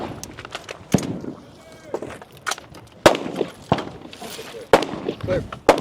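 Rifle shots ring out on a competitive shooting stage at a regional men's 60+ match: several sharp, loud cracks spaced a second or two apart, with a commentator talking between them.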